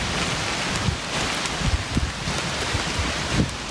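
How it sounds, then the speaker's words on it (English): Steady rain falls at a lakeside campsite, a dense continuous patter on surfaces with a few louder drops standing out, close and even throughout with no talking. "Still raining."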